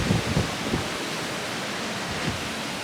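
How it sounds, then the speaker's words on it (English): Steady broadband wash of ocean surf heard from a cruise ship balcony, with a soft continuous roar and no distinct crashes. Faint low thumps early on, no talking. "I just love the sound of the ocean."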